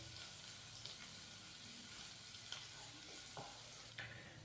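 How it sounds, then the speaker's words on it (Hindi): Chopped garlic fries lightly in a pan with a soft, steady sizzle, punctuated by a few quiet clicks and scrapes of stirring; faint and close, with no voices. "लहसुन को हमने 30 से 35 सेकंड के लिए हल्का सा फ्राई कर लिया।"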